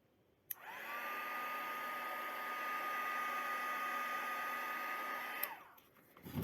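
A heat gun blowing hot air over a plastic mold of epoxy resin, a loud steady whirring hiss that switches on sharply, holds for about five seconds and then cuts off.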